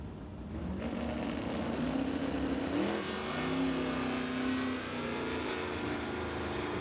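Drag racing at an NHRA Summit ET event pits a Nova against a Chevy 2, with engines droning loud and steady and pitch rising and falling as the cars stage, a continuous roar with no talk.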